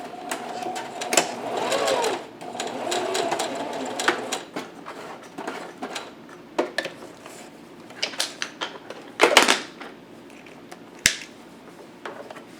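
A sewing machine stitches a fabric face mask in short bursts of fast rattling needle clatter, close and moderately loud, separated by pauses with clicks and handling of the cloth.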